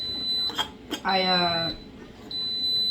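A kitchen timer for cooking chicken gives a few short high beeps, then a longer sustained electronic tone, with a voice speaking briefly between beeps.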